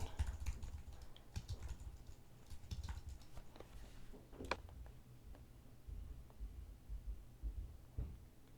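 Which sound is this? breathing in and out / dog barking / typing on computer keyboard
typing on computer keyboard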